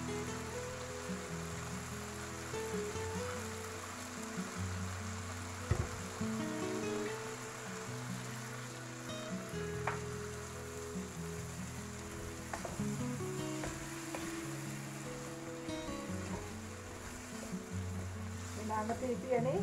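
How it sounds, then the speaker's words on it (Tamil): Water goes into a pan of potatoes cooking for a bread cone samosa filling, bringing a steady loud sizzle and bubbling with occasional stirring clinks that carry on throughout, close by. "இப்போ நான் இதுக்குல கொஞ்சம் தண்ணி விடுறேன்."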